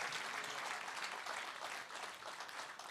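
A church congregation claps steadily for a few seconds, a dense wash of applause heard from a moderate distance.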